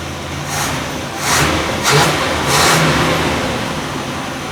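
1962 Corvette engine, revived after sitting for years, running with a rough rumble and revved in three or four surging bursts, loud and close, with no talk.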